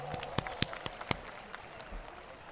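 Scattered hand claps from an audience welcoming a speaker at a large Buddhist gathering in Akola, a handful of sharp separate claps over a faint murmuring room, never swelling into full applause.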